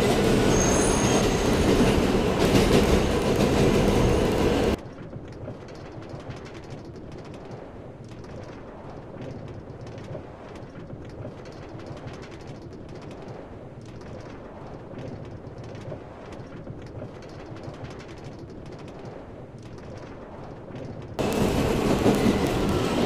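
A transit train on Line 4 rolls toward its terminus at Westford, a steady rumbling ride with clickety wheel noise and occasional squeals, louder at the start and end.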